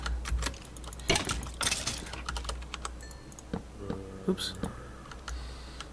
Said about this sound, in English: My super loud keyboard.